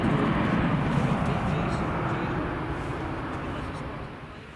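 A Jet2 airliner takes off from runway 23 left at Manchester Airport, a broad jet roar heard from a distance that slowly fades as the aircraft departs.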